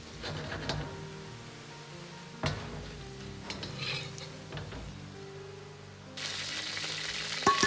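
Sliced meat stir-fries in a wok with a little oil, a soft steady sizzle punctuated by sharp clanks of a spatula against the pan, growing into a louder hiss near the end.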